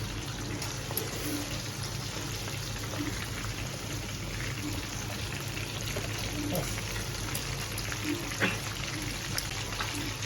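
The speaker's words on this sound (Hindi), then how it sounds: "एक साइड से हो गया हमारा फ्राई, अब दूसरी साइड से" Chicken fries in a pan on its second side, making a steady crackling sizzle with scattered pops that runs unbroken at moderate loudness.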